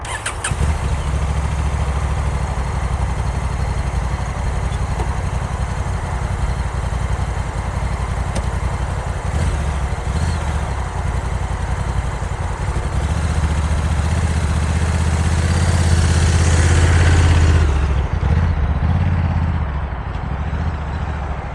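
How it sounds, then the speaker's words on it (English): A Honda Africa Twin Adventure Sports DCT motorcycle ridden slowly, its engine a steady close low rumble that holds throughout and swells briefly near the end, with no talking. "I'm really not confident with riding this motorcycle on a slower speed."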